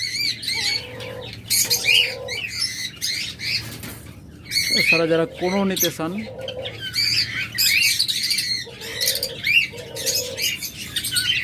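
Caged breeding pet birds, lovebirds, budgerigars and finches, keep up busy chirping and squawking. A burst of wing flapping flutters up midway, and someone talks intermittently over the birds.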